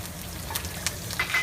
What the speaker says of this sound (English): I'm just gonna put the green onions in here and some garlic to saute real quick